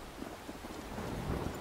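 Heavy rain and thunder in the video game Life is Strange, heard as a soft, continuous wash of falling rain with low rumbling underneath that builds slightly toward the end.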